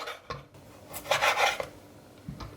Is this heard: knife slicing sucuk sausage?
yes